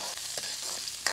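Onion sizzles in hot oil in a kadhai over a wood-fired stove, a dense steady frying hiss close by with brief stirring scrapes, and no voices.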